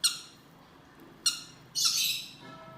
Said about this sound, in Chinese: 这小鸟早早就饿了， 该喂它了。